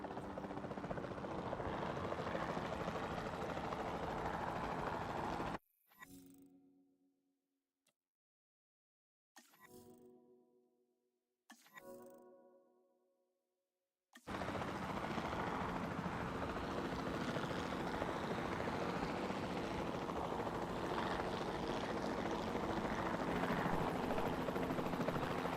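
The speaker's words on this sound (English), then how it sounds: "Then the sensible thing is to take a capture team helicopter." A capture team helicopter in the dinosaur park game Jurassic World Evolution 2 gives a steady rotor and engine roar that drops out for a few seconds, returns in short bursts, then settles back into a constant loud drone.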